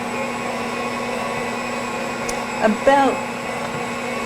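A bread machine kneading challah dough runs as a steady, even motor hum, with a brief louder clatter near the end as a person speaks close by.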